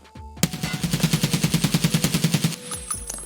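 A SCAR 7.62 rifle in Escape From Tarkov fires one sustained full-auto burst of roughly twenty rapid, evenly spaced shots lasting about two seconds, loud and close, followed by a brief metallic tail.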